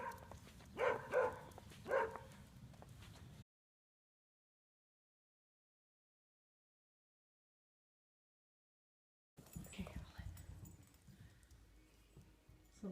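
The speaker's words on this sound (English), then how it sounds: "more barking dogs" Neighborhood dogs bark in a few short bursts in the first seconds, then the sound cuts to silence before faint outdoor ambience returns.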